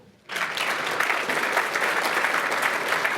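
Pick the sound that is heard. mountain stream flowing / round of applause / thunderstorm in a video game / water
round of applause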